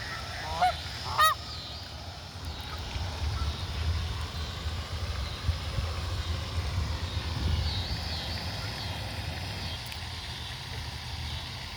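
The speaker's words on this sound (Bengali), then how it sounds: "এখানে প্রচুর পাখি আছে ওই যে পাখি উঠতেছে" Large geese honk repeatedly as they take flight in America, their calls carrying from a moderate distance over a steady low rumble, with a couple of louder honks near the start.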